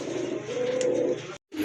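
Rampuri pigeons cooing close by, a low continuous throaty coo over light background noise, cut off briefly near the end.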